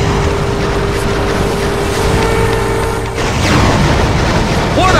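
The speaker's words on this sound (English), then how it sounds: "What a collision! I can feel the impact from here!" Vehicle combat crash and explosion in the WWE Crush Hour video game on GameCube, a dense continuous roar of booming impacts and engine rumble with a brief dip before the blast noise swells again.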